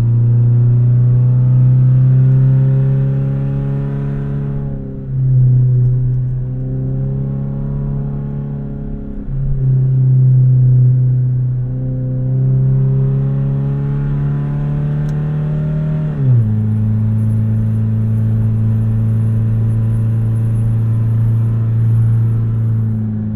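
Toyota Camry engine running with its exhaust fallen off, a loud, raw droning rumble heard close, with several slow revs that rise in pitch and drop back before settling to a steady idle drone.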